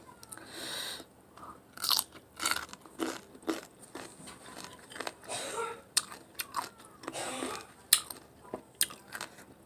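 Repeated close crunchy bites into sour, crispy baby mango eaten with a spicy salty sauce, loud wet crackling chews arriving in irregular bursts with short pauses between, no talking.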